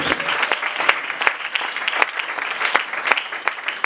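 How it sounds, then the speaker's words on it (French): A church congregation applauding loudly, dense sustained clapping throughout with sharper individual claps standing out, near and energetic. "Acclamons très fort après le Seigneur."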